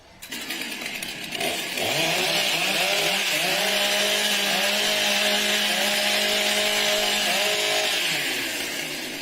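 Several chainsaws rev loudly at a timbersports event as athletes warm up their saws, a steady sustained engine roar with rising and falling pitch sweeps, alone without talk.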